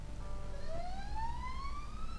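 An ambulance siren wails in the distance, its rising tone sweeping upward over about two seconds, faint against a low background hum with no talk.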